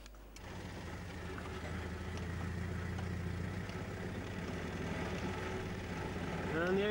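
A Morris Minor car's engine runs steadily throughout, a continuous low mechanical hum and rumble heard close by with slight variations in load, recorded in a desert setting.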